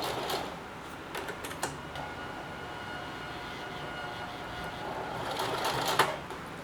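A brand new Singer 4432 heavy duty sewing machine makes its first few stitches, a quiet mechanical whir with intermittent clicks and taps, rising slightly toward the end.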